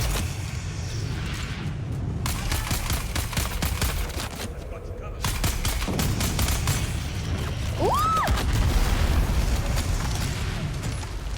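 Dense bursts of video game gunfire and explosions, rapid clustered shots with heavy booms, continuous and fairly loud, with a voice speaking over parts of it.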